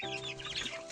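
Chickens and month-old chicks clucking softly nearby, a short burst of close, quiet clucks and chirps with no other sound.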